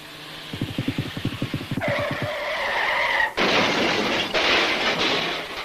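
A vehicle engine chugs in rapid pulses, then gives way to loud tire screeching and skidding noise up close.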